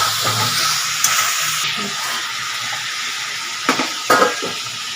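Small onion pieces frying in a pan with tomato and cashews make a steady hissing sizzle, broken by a few sharp clicks and scrapes of stirring.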